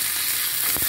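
Green chilies, curry leaves and coriander sizzle loudly in hot oil for curd rice tempering, a dense, close crackling hiss that holds steady through the short moment.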